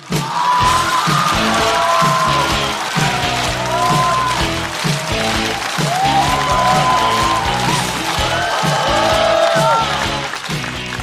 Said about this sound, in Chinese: 让我们掌声欢迎牛马侯志远